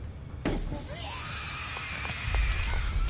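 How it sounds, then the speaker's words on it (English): A scream in the horror game The Coma 2: Vicious Sisters, a sharp high wail after a sudden thud, trailing off over low rumbling game ambience. "Man, that scream really annoys me."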